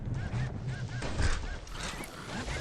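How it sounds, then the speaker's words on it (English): A flock of honking, goose-like birds in the video game Bastion, several calls repeating quickly at moderate distance, with a faint voice in the background. "here we have a bunch of birds"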